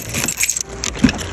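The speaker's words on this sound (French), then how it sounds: "on a les clés de la voiture" Car keys jangle and clink up close in a quick metallic rattle, a brief bright burst with no talking.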